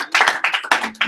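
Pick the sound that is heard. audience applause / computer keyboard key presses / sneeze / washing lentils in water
audience applause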